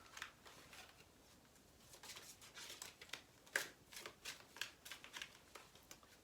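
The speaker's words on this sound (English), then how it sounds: "I think they enjoy watching me shuffle." Tarot cards being shuffled by hand, a soft run of papery riffles and flicks building into a quick, irregular patter of close, quiet card strikes with no talking.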